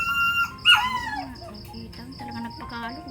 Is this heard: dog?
yes